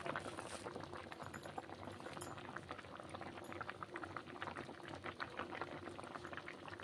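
Shukto, a Bengali mixed-vegetable curry with sugar just added, bubbles steadily in a pot, with a continuous soft gurgling simmer close by and no voices.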